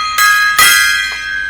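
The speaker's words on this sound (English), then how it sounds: "That deserves a gong." A metal gong is struck twice in quick succession, ringing loudly and close by with a bright, sustained shimmer that slowly decays.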